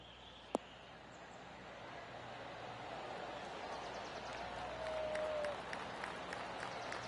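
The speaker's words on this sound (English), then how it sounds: "That deserves a golf clap." A golf gallery on a PGA Tour course claps for an approach shot, a scattered, steady patter of applause building gently from a distance, with a sharp click near the start.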